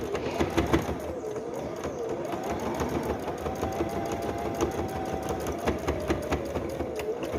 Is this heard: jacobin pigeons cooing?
no